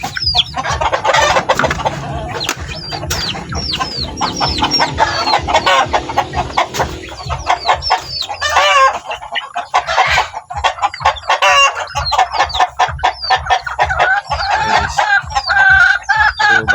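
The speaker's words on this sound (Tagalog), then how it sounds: "sa ating mga native na manok ayan kasi uhaw na uhaw sila" Native chickens cluck busily and a rooster crows repeatedly nearby, dense overlapping calls from a flock at a farm, loud and close with no talking.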